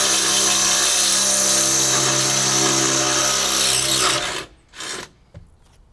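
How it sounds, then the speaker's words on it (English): A steady, loud mechanical grinding and whirring as a drill bores through a metal fender bracket on a 2015 Jeep Wrangler JK runs for about four seconds, then cuts off abruptly, followed by a brief second burst. "I'm just gonna drill right through it and then paint it"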